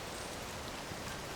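Rain falls in Hateno village in the game Tears of the Kingdom, a faint, even hiss of drops spread across the whole moment with no voices.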